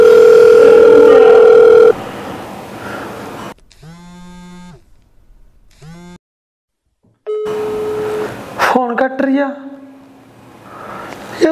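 In a Punjabi movie scene, a phone call's ringing tone sounds as a steady electronic beep, briefly at the start and again later, while a voice is heard talking in between.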